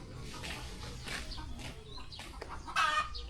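Chickens cluck and call around a hut on a Philippine farm in the afternoon, heard amid continuous outdoor background noise, with a brief louder squawk near the end.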